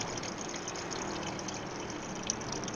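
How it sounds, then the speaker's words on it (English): Water from a kitchen refrigerator dispenser pours steadily into a cup, a close, continuous broadband rush with a faint gurgle as the cup fills. "I'm going to get the microphone right in there so you can hear the water pouring"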